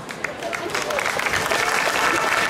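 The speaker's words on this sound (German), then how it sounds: "In dem Sinne, einen ganz großen Applaus" An outdoor festival crowd at the Bad Harzburg salt and light festival applauds a dance sport club, clapping swelling from moderate to fuller over a few seconds with a voice faintly under it.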